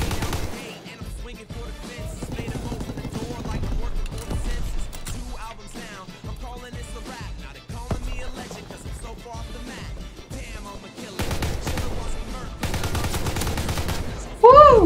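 Assault rifle fire in the Call of Duty WWII beta, a team deathmatch, with dense bursts of rapid gunshots and explosions throughout, under occasional talk.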